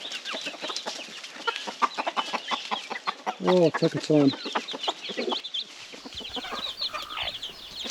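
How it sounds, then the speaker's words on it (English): Chickens cluck steadily in a chicken compound on a remote off-grid island, a busy close chorus with one louder burst in the middle, while a person speaks briefly. "So we are in the chicken compound."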